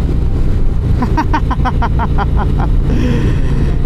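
A Harley-Davidson Street Glide motorcycle engine rumbles steadily under way, mixed with wind rush and a brief run of quick ticking bursts midway.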